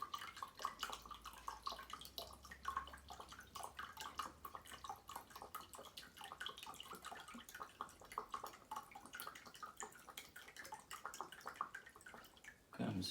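Worcestershire sauce poured into a cup, filling it about three quarters full for homemade beef jerky marinade; a steady close liquid trickle and splash runs continuously, ending with a brief louder knock.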